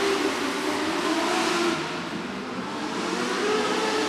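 Modlite race cars roar around a track during a heat race at the Midwest Winter Nationals, a sustained, dense engine drone with rising and falling revs as the field passes, moderately loud and without speech.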